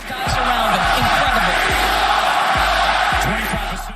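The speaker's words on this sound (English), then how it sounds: "the back and forth between him and the crowd that featured endless boos and chants at him" A Boston arena crowd jeering Kyrie Irving at a basketball game, a loud sustained roar of boos and shouting with sharp basketball bounces and squeaks cutting through.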